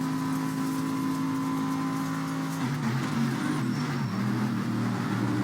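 A Porsche race car engine in a GT endurance racing video game at Calgary, a steady droning whine that shifts pitch midway as the car changes gear, heard alone.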